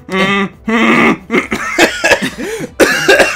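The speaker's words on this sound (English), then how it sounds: "I've got this cough." A person coughs in loud, close bursts, with harsh rough coughs mixed with throat noises and possible laughter, during a casual recording session.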